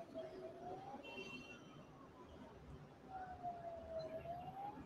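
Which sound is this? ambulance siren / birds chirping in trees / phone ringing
ambulance siren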